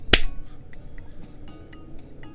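A single sharp hand clap sound effect from the Fate/Hollow Ataraxia visual novel, one crisp near snap followed by quiet ambient background.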